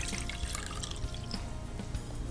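Fragrant coconut water is poured for a dessert, giving a faint, continuous trickle and splash with scattered small drips.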